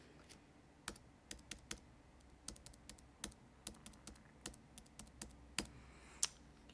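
A credit card number is entered on a computer keyboard: soft, quiet keystrokes tap out one by one at an uneven pace, close by, with no voices.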